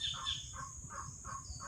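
Bird chirping from somewhere overhead, a repeated squawky call sounding about four times in a steady rhythm over low background rumble, with no talking.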